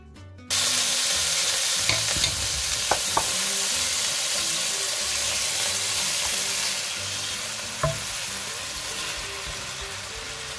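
Chicken, spices, onion and chopped mushrooms fry in a pan with a steady loud sizzle, broken by a few scraping stirs and clinks of a utensil; no one speaks.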